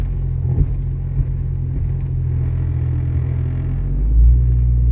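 A 1996 Jeep Cherokee XJ driving in four-wheel drive, its engine a steady low rumble up close that swells louder near the end as it accelerates.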